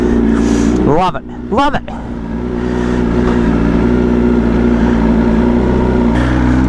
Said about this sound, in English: I get to do my first cold start on it since the tune